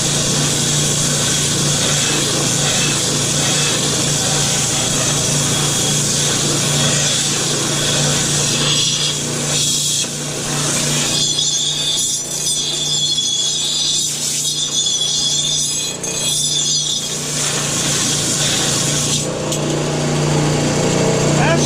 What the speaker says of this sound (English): here's our band sander. We're going to smooth out the surface.